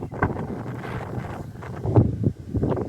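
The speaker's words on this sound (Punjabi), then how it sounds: "ਬਹੁਤ ਤੇਜ਼ ਹਵਾ ਚੱਲ ਰਹੀ ਹੈ" Strong gusty wind blows just before rain on a rainy morning, roaring and buffeting close against the microphone with uneven surges and no voices.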